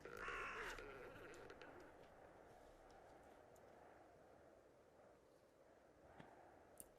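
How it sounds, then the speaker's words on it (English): A crow caws sharply near the start, then a steady wind blows on alone, with a faint second caw late. "he does not hear anything other than the crows in the wind"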